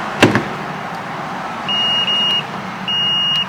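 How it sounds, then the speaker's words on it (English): Two steady electronic beeps from a multimeter in continuity mode while probing a MOSFET on an HP ZBook 15 G4 laptop motherboard, each lasting about half a second, following a brief click of the probes; no talking. "Can you hear the beep?"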